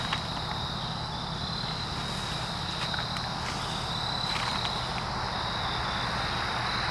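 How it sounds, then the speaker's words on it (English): Steady high-pitched cricket chirping at dusk drones on throughout, with faint scattered knocks and rustles in the background and no voices. "You heard the crickets."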